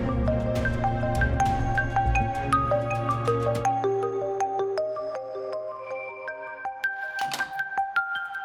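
A mobile phone ringtone for an incoming call in a drama scene, playing a bright melodic tune of repeated chiming notes over a low hum that fades after a few seconds, loud and close, with no talking.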